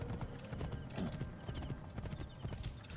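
Horse hooves clip-clop steadily in Assassin's Creed Origins, a brisk, fairly quiet rhythmic trot of hoof strikes over faint background ambience, with no speech over it.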